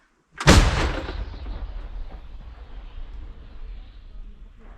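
A single American M101 105 mm howitzer blast booms out suddenly, then rolls and rumbles away into a long fading echo.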